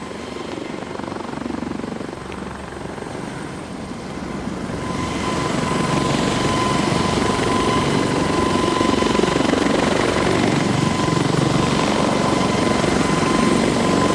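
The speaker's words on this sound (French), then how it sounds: "Envoyer des hélicoptères" A helicopter's steady rotor drone swells louder midway and holds, a continuous heavy thrum passing overhead.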